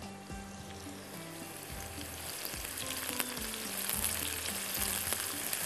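Onions, tomatoes and ginger-garlic masala sizzle and fry in a pan, with stirring and scraping at intervals. The frying is close and fairly quiet, and no one speaks.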